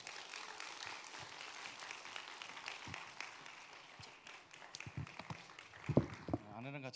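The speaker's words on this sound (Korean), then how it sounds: "우리 목사님 나오시면 큰 박수로 환영하겠습니다" A church congregation at a Friday service claps to welcome a pastor to the stage, with moderate applause that fades and thins into scattered claps, shuffling and footsteps, and a voice joins near the end.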